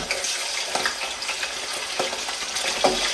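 Meat for Pakistani nihari fries in hot oil, giving a loud, steady close sizzle with crackling pops throughout and no speech.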